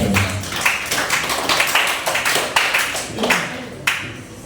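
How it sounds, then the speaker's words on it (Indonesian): A small group claps for a team of participants in a school counseling session on building resilience; a few uneven, fairly close hand claps patter for several seconds, alone without talk. "Tepuk tangan dulu buat kelompok 1."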